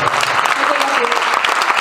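Audience applause at a concert, a dense, even burst of many hands clapping, loud and close, with a faint voice underneath.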